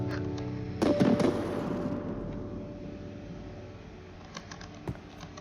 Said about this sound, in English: Why is he shooting firework rockets in the air